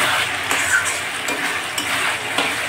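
Potatoes, onion and spices fry with a steady, loud sizzle in a pan for a chicken curry, while a utensil stirs and scrapes through them in regular strokes, with no talking.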